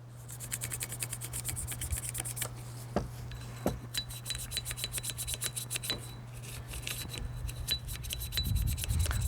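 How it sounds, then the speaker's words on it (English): Close-up scrubbing of the slide rails of a Sig Sauer P226 pistol soaked in Ballistol, with repeated short brushing rasps over a steady low hum throughout. "now we'll clean the slide here. So remember, this has been sitting with ballistol, and we'll scrub into the rails here as well"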